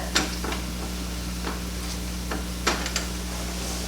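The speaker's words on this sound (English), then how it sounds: "I'm going to let that saute for a little bit" Onions sautéing in a pan for spinach dip, a soft even sizzle over a low steady hum, broken by a few sharp utensil clicks and taps.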